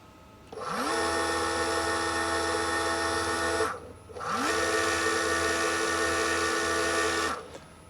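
A cheap automatic tapping machine whirs loudly as it drives a tap 20 mm deep, then stops briefly and runs again to back it out, two steady motor bursts with rising pitch at each start.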